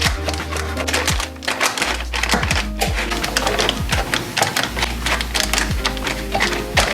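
Oat bars are cut with a knife on a board in the kitchen, a run of close, rapid tapping and thudding chops in an uneven rhythm, with no talk.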